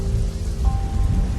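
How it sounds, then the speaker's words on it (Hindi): Steady rain falls as a storytelling sound effect, a loud, even wash of dense drops with low rumbling underneath and no voices. "अचानक आसमान से पहली बारिश की वो बूंद उसके हाथ पे गिरी।"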